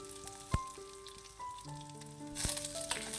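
Thinly sliced shallots, garlic and curry leaves sauté in hot oil for a Kerala beetroot curry, giving a soft, steady sizzle under faint background tones, with a couple of sharp clinks and a brighter burst near the end.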